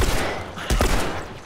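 Gunfire in The Last of Us Remastered during Bill's Town: a couple of sharp, close shots in quick succession around the middle, over a steady low rumble of game ambience.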